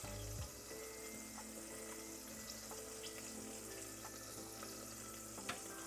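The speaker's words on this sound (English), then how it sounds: "you can hear that sizzling" Sausage juices sizzle steadily in a pot as the base for Cajun red beans and rice, a close, continuous frying hiss with small pops and crackles and no talking.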